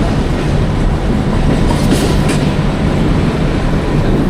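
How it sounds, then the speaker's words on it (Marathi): A train rumbles past directly beneath a walkway or bridge, a steady, loud, continuous roar of wheels and wagons with faint clickety-clack, with no voices heard. "ट्रेन माझा खालून चाललेली ना, मी ट्रेनच्या वरतून चाललोय"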